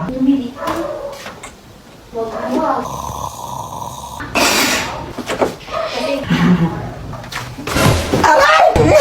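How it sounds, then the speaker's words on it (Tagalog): A door opened and slammed shut during a Filipino comedy skit, with a sharp loud bang in the middle and people talking throughout. "bubuksan ko yung pinto"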